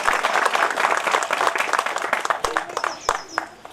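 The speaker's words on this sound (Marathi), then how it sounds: "एकदा जोरदार टाळ्या झाल्या पाहिजे." A crowd at a school education program in Akola applauds loudly and steadily, dense clapping that thins toward the end, leaving a few scattered claps.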